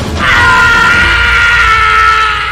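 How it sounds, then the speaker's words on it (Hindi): A man's sustained, echoing scream rising from bushes in a village at night, loud and held for a couple of seconds over a low background rumble. "और झाड़ियों में उस आदमी की चीख गूंज गई"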